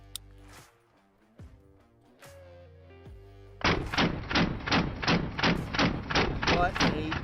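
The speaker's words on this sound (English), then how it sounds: "shooting full auto, that's the first time I ever shot a full auto one-handed" Blackwater BW-15 rifle fired full auto one-handed: after a quiet stretch, a loud sustained burst of about a dozen rapid, evenly spaced shots close by, with no talking over it.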